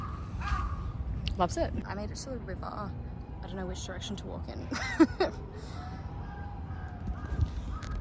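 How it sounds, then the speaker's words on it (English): A crow caws repeatedly by a river in Tokyo, its harsh calls coming in short bursts at moderate distance while a person speaks over them in a quiet outdoor setting. "Go off, crow."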